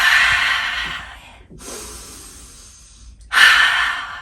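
Two deep breaths sound up close, each a loud, airy inhale or exhale, separated by a softer, quieter breath in the middle, with no talking.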